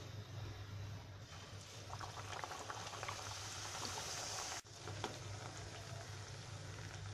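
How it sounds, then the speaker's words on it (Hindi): Puris deep-frying in hot oil over medium heat, a steady broadband bubbling and crackle that continues throughout without talk, with a brief dip near the end. "पूरी तलने के लिए हमने तेल को गर्म कर लिया है।"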